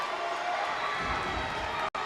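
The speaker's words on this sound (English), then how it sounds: "Crowd really getting into it here for Beauregard." A crowd cheers and roars steadily in a gym during an Alabama high school basketball game, Auburn at Beauregard, a dense, continuous wash of voices that drops out abruptly near the end.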